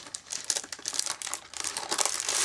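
A plastic sticker sheet crinkles and rustles as it is handled, close and fairly loud, in uneven bursts of crackling with brief lulls, no talking.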